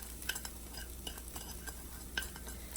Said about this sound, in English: Then I'm going to just dump the potatoes right in.